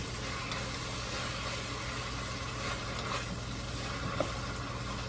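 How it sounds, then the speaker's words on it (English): Onion stirred in a hot cooking pan for ackee and saltfish, a soft continuous sizzle with faint scraping and a light utensil tap near the end, heard close and alone. "Mixing up the onion."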